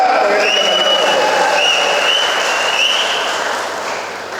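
Sustained audience applause at a political speech in Karnataka, a dense wash of clapping from a large crowd that holds steady and then fades slightly toward the end, with no voices over it.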